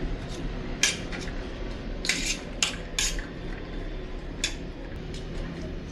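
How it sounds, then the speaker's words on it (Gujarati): A spoon clinks and scrapes against a dish a handful of times at an uneven pace, breaking up boiled chickpeas for chaat over faint background noise. "ચમચી વડે મોટા મોટા હોય તેને ભાંગી લેવાના"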